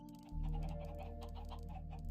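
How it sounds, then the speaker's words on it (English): Minecraft chickens cluck in quick overlapping bursts over a constant low hum and ticking redstone machinery, many birds packed close together. "I've added way too many chickens and they just kind of ruin it for each other"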